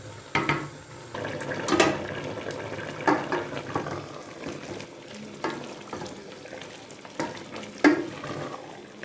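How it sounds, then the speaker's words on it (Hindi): Potato and bell pepper curry simmering in a pan over low heat, a soft bubbling sizzle broken by irregular scraping and clinking strokes as a spoon stirs it every second or so, close and moderately quiet. "ये हमारा पकना शुरू हो चुका है।"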